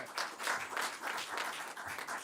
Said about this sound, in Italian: Magari che facciamo anche l'applauso così